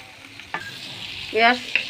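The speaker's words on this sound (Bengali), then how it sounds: "এখন আমি এগুলো সব একসাথে দিয়ে দিচ্ছি। এখন নাড়তে হবে।" Fried chicken and boiled chickpea lentils are stirred together in a pan, with scraping strokes of the spoon over a gentle sizzle and no voices.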